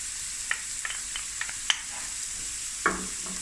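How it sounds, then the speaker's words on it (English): Onions and garlic fry over medium heat in a pan for a beef mince pie filling, a steady close sizzle broken by several short spoon taps and stirring scrapes. "on a medium heat, just fry these onions and the garlic"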